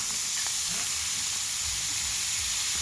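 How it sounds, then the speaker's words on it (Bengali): Steady hissing sizzle of green chilies, cauliflower, salt and turmeric frying in hot fish oil in a pan, a continuous close crackle without talk. "তেলে দেওয়া হচ্ছে কাঁচা লঙ্কা চিড়ে আর নুন হলুদ দিয়ে আগে ভেজে নেওয়া হলো"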